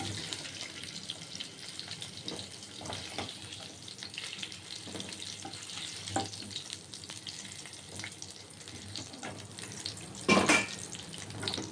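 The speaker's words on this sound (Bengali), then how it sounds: "দেখুন এর মধ্যে আমি পেঁয়াজ ছেড়ে দিলাম পেঁয়াজ আর দুই কোয়া রসুন টুকরো টুকরো করে কেটে এর মধ্যে দিয়ে দিয়েছি" Onion and two cloves of chopped garlic frying in a pan for a potato and paneer curry, a steady close sizzle with scattered crackles and a brief louder burst of spitting near the end.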